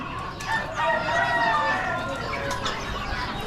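Chickens cluck and murmur close by while a rooster crows, several birds calling over one another, at an Amish animal auction.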